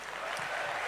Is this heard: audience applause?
yes